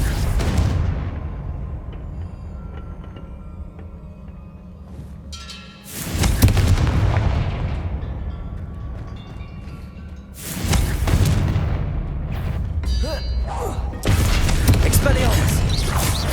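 Confringo spell blasts in Hogwarts Legacy: a few loud booming bursts with broad crackling impact, spaced several seconds apart over a steady game background, with voices speaking between them.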